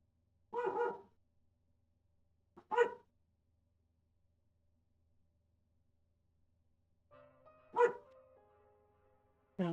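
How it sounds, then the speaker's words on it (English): A puppy gives several short, separate gruff barks and grumbling growls from nearby, spaced between long quiet gaps, with a faint electronic tone under one of them. "sorry for the grumpy puppy noises"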